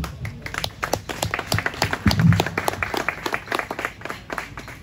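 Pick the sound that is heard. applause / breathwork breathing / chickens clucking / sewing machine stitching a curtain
applause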